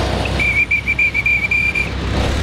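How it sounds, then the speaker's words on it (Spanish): A parking attendant blows a whistle to direct cars, giving a quick run of short, shrill, evenly spaced blasts that sound loud and close over low background noise. "Yo utilizo en el trabajo mi chaleco y mi silbato para sacar los carros"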